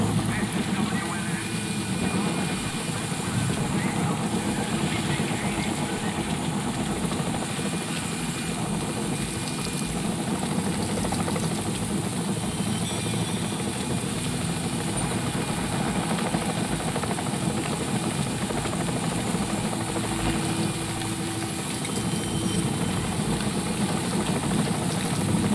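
A news helicopter in the stealth video game Splinter Cell Double Agent, its engine and rotor giving a steady droning hum with constant vibration that holds unbroken throughout, with faint talk in the background.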